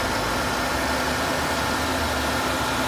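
A 1996 Cadillac Fleetwood Brougham's 350 V8 idles steadily in a clean engine bay, a continuous, even low rumble with no talk over it.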